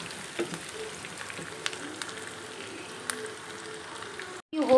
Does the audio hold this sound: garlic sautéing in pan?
yes